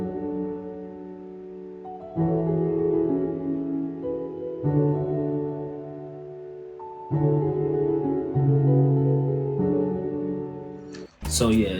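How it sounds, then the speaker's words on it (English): The American Grand piano preset from Analog Lab, drenched in heavy reverb, plays a slow sequence of sustained chords that change every few seconds. The chords are warm and full, no one speaks, and the passage closes with a brief bright burst. "the main sound is piano from Analog Lab, and it's the American Gray Road piano"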